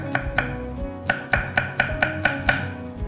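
A knife taps steadily through a firm Cheongyang chili pepper, slicing it thinly on a cutting board, about a dozen quick, even chops close by.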